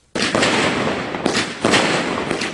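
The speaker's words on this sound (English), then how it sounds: "fireworks display illuminated the sky, accompanied with shouts of Happy New Year" New Year's midnight fireworks burst over Millennium Park in Calabar as a loud, continuous barrage of crackling booms and pops, with several heavier bursts swelling through the dense roar.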